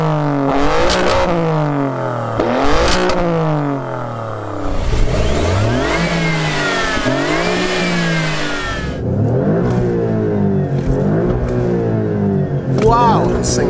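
An Alfa Romeo Stelvio SUV with a 2.9-liter twin-turbocharged V6, eight-speed automatic and all-wheel drive revs hard several times, pitch sweeping up and falling back, loud and close.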